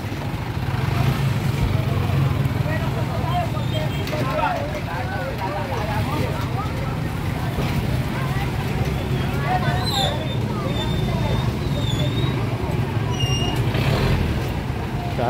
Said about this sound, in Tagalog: Oh, nagka-traffic na mga boss.